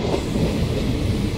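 A largely empty passenger train travelling from Hyderabad toward Goa rolls along with a dense, close rumble of wheels and carriage noise, steady and loud for a brief moment.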